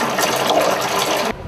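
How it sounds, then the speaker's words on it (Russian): Hot water pours from an apartment tap into a basin, a loud, steady gushing splash that cuts off abruptly just before the end. "Мы набираем воду в тазы"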